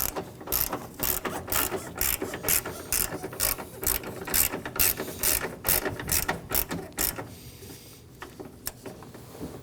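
Ratchet wrench tightening engine mount bolts on a 2016-2022 Honda Pilot 3.5L V6, rapid close clicking in repeated bursts that ease off near the end.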